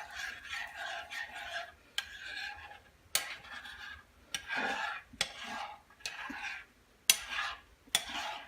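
A utensil scrapes and clinks against a pan while milk gravy is stirred, sharp taps recurring every second or so over a quiet background.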